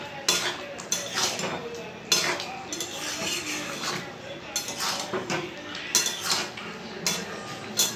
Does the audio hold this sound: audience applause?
no